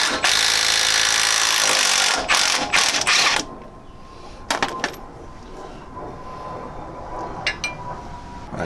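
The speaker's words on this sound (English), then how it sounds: "hopefully we'll be able to impact this nut right off" A pneumatic impact wrench hammers loudly for about three seconds on a lightly rusted front shock absorber nut of a 2004 Suburban being fitted with Bilstein 4600 shocks. Brief metallic clicks and clatter of tools follow.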